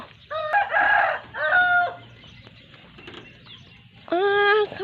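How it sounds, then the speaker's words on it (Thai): A rooster crows nearby, two long calls separated by softer clucking and a brief quiet stretch, then a third crow at the end. "ไก่"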